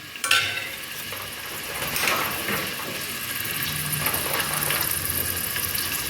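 Chopped onion frying and being stirred in a pan for a Kannada horse gram (huruli) saaru, a steady low sizzle with scraping stirring strokes throughout, close and moderately loud, no talking.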